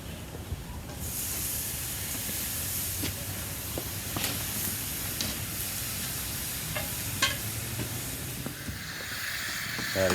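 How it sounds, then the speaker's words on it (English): Diced tomato hits a hot chili pan on a grill, setting off a constant loud sizzle and hiss that runs throughout with occasional stirring clicks. "I'm going to add some diced tomato now to the pan"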